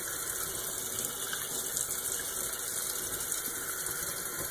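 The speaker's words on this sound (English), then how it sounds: "It's going to put quite a bit of water on this ball." Steady water flow pours from a tap onto a spinning beach ball, a constant close hiss and splash that holds evenly throughout with no talking.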